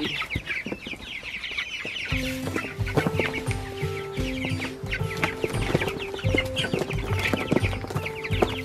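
Meat-bird chickens cluck busily in a feeding frenzy, a dense, continuous chorus of overlapping clucks and calls from a flock close by, with nobody talking.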